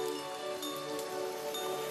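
Steady rain falling in a rural village in Ghatal, West Bengal, during a spell of heavy monsoon showers, a dense even hiss of drops on surfaces, continuous and moderately loud with no voices.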